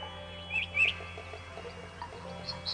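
A great spotted woodpecker chick is fed by its mother in a nest hollowed into a tree trunk. A couple of short, high, thin chirps rise faintly over a steady low background hum.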